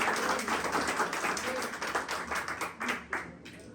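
A congregation applauds during a Sunday church service, with brisk, energetic clapping from many hands that swells and pulses for a few seconds before tapering off.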